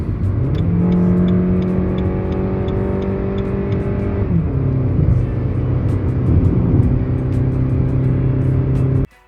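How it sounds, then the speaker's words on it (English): A 2023 Suzuki Fronx small SUV engine with a 4-speed automatic revs hard and climbs in pitch under rapid acceleration, shifts once, then keeps pulling loudly and steadily before cutting off abruptly. "So if you rapidly accelerate in the Fronx, this is what you'll hear."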